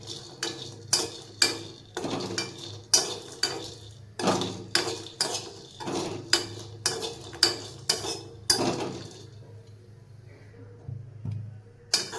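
Grated coconut is stirred and lightly roasted in a pan while making a Maharashtrian brinjal dish, with a spoon scraping and clinking against the metal in a quick, regular rhythm that slows near the end.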